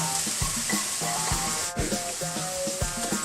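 Vegetables stir-frying in a hot pan for a chicken mint pesto dish, with a steady loud sizzle and repeated scraping, tossing knocks of a utensil against the pan at an uneven rhythm.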